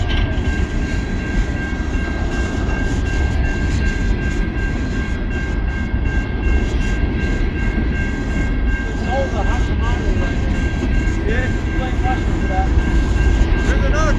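A Norfolk Southern coal train rolls past nearby, a steady loud rumble of rail cars with faint clatter lasting the whole stretch, while brief voices come through in the background.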